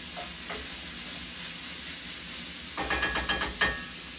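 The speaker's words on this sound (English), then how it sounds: "that's literally sizzling fat" Fat sizzles steadily in a pan, then a few crackling pops and scraping stirs near the end, close and moderately loud.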